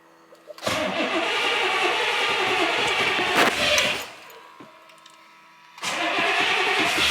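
A John Deere 2305 compact tractor engine cranks and catches, running roughly for a few seconds, dies back briefly, then fires up again and keeps running.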